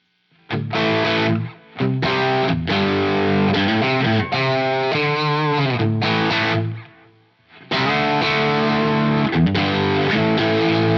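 An electric guitar driven through the BB overdrive model on a Quad Cortex rings out in loud, gritty chords and riffs with a couple of short breaks, played alone without any voices.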